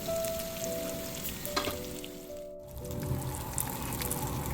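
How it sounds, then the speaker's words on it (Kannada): White salmon fish coated in Gandhari chilli green masala fries on a low gas flame, giving a steady, even sizzle with soft crackles and a faint tonal hum underneath. "ನಾನು ಫಿಶ್ ಫ್ರೈ ಮಾಡುವಾಗ ಯಾವಾಗಲೂ ಗ್ಯಾಸ್ ಫ್ಲೇಮ್ನ ಸ್ವಲ್ಪ ಲೋ ಫ್ಲೇಮಲ್ಲೇ ಇಟ್ಟಿರ್ತೀನಿ"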